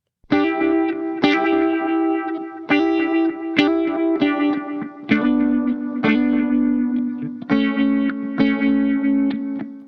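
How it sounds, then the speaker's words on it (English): An electric guitar picks chords through a fast, thick asymmetrical phaser sweep with echo from a Caroline Kilobyte delay, each strum ringing out with a swirling, distorted tone and trailing repeats in a steady rhythm. "We started out with a fast, thick, asymmetrical phaser sweep, coupled with some echo from the Caroline kilobyte delay."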